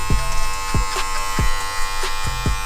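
BaBylissPRO hair clippers buzz steadily while cutting hair, a close, constant electric hum with rhythmic strokes repeating about every half second as the blades pass through.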